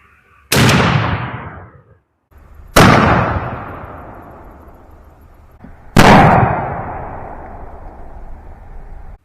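A 12-gauge shotgun fires Winchester Double X turkey loads, 3.5-inch shells with No. 5 shot, at a pattern target 30 yards away: three loud, sharp blasts a couple of seconds apart, each trailing off in a long echoing decay.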